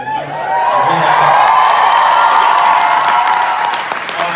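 Loud, sustained applause and cheering from a packed theatre crowd on a Hamilton opening night in London, with whoops rising above the dense clapping as it swells and then slowly eases.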